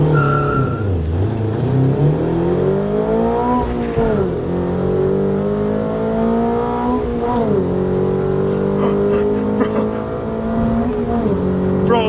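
A modded Toyota GR86/Subaru BRZ sports car is driven hard, its engine loudly revving up and dropping back through repeated gear pulls, with a steady roar filling the cabin and a faint tire squeal.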